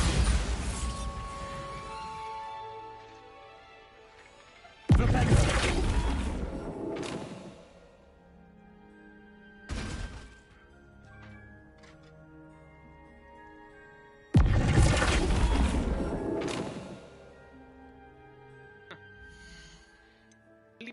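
Bombarda explosion spells burst in Hogwarts Legacy, four separate loud blasts arriving several seconds apart, each decaying into a ringing tail, with quieter game ambience between them.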